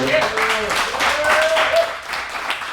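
A live audience applauds a local musician after an interview, a brief round of clapping mixed with a speaking voice and some whoops, fading slightly toward the end.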